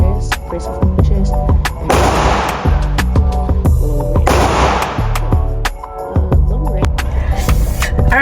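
Handgun shots fired during a shooting drill at an outdoor range, several sharp, loud reports spaced a second or two apart, with a steady background hum between shots.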